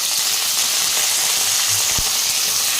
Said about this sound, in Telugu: ఎర్రగడ్డలు అయితే గోల్డెన్ బ్రౌన్ కలర్ వచ్చే వరకు వేయించుకోవాలండి